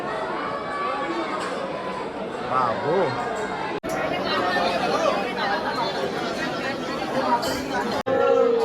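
A crowd waiting in a long temple queue in Maharashtra keeps up a steady babble of many voices close around, with a nearby speaker briefly audible above the din.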